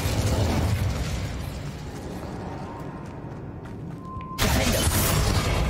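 The Incendio fire spell in Hogwarts Legacy bursts out in one sharp, loud whoosh near the end, after a stretch of rumbling game ambience with a brief tonal chime just before it.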